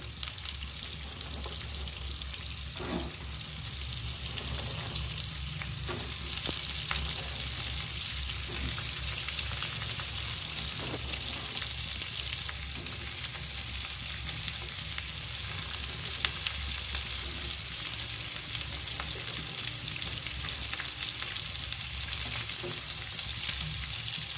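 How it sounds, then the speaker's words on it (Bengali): Vegetables with soya chunks stir-fry in a wok for Bengali-style veg chow, with a steady loud frying hiss that holds for the full stretch and occasional faint scraping stirs, without talk. "ভালোভাবে নেড়ে নেড়ে ভাজতে হবে।"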